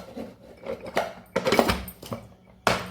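Raw vegetables for chutney are chopped in a kitchen chopper, making a few sharp clattering knocks and rattles in irregular bursts, close by and fairly quiet.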